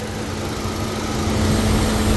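A Holden Cruze engine idles with a split PCV diaphragm, giving a steady, even running drone with a faint continuous hiss layered over it, heard up close with no talk.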